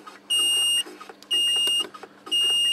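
A two-channel Atmega 8 thermostat controller sounds its alarm: three loud, high electronic beeps, each about half a second long, spaced evenly about a second apart over a faint background hum.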